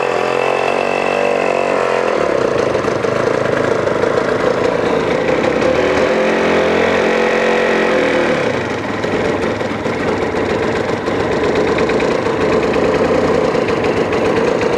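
A Yamaha TZR 250 two-stroke motorcycle engine runs loud and steady close by, its rough buzzing drone briefly faltering and thinning partway through as one cylinder drops out before it picks back up.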